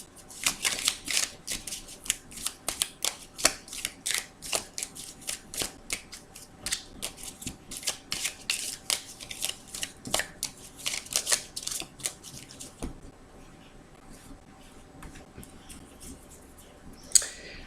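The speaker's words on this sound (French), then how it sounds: "je vais mélanger donc cet oracle" Oracle cards being shuffled: quick, crisp riffles and flicks, close and fairly quiet, in bursts for about thirteen seconds, then fainter handling of the cards.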